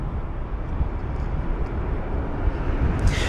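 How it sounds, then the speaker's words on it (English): A Boeing 787-9 Dreamliner arrives at London Heathrow on a windy day, giving a continuous broad roar of jet engines and rushing air at moderate distance, steady throughout with no talk. "There's the 787's arrival."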